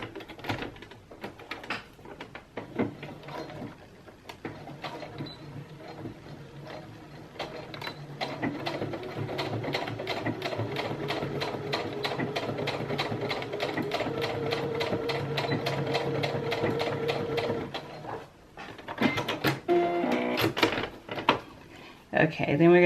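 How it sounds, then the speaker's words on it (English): A sewing machine stitches along the edge of bra fabric, a fast steady mechanical rattle running continuously through the middle stretch with brief pauses and handling clicks at the start and end. "you want to sew right along the edge"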